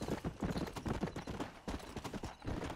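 Rapid hoofbeats clip-clop steadily from a galloping horse in the Western video game Red Dead Redemption, dense and close, with faint snorts mixed into the running rhythm.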